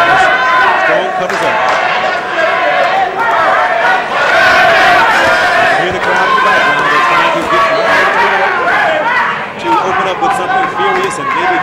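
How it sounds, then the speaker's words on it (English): A boxing crowd at the Myron Taylor vs Curtis Strong fight roars and yells steadily for the whole stretch, a loud, dense wall of voices close around with no break. "Hear the crowd."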